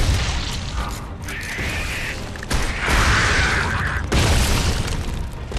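Ticker enemies bursting in Gears of War 2, a dense mechanical clatter and crunch with louder booming impacts around the middle and late in the stretch, continuous game noise throughout.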